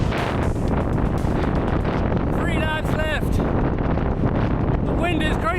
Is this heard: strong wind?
yes